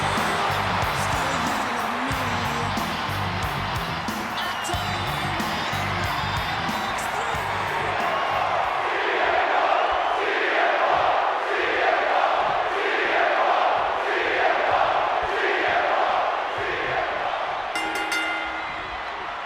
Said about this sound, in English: a little help from the WWE Universe to cheer him on in the meantime